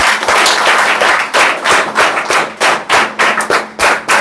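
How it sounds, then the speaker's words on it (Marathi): An audience claps loudly and energetically at a welcome ceremony for a guidance camp, with dense, sharp claps and brief swells and dips in rhythm across the room. "एक जोरदार टाळ्या वाजवू द्या"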